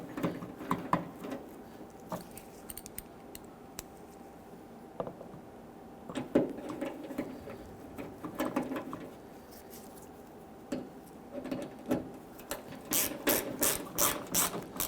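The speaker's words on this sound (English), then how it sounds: "Install the 2 screws." Ratchet clicks while tightening two screws on a 2007-2017 Jeep Patriot liftgate handle, heard in short irregular bursts of close mechanical clicking with brief pauses and a faster run near the end.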